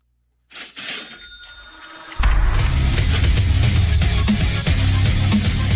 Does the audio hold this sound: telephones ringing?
yes